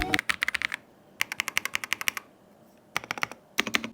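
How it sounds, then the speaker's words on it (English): Blue clicky switches on an AJAZZ AK820 Pro mechanical keyboard rattle out quick, crisp bursts of typing with short pauses between runs. The keystrokes are close and distinct with no voice. "The blue switches on this keyboard are incredible, and the sound is super good."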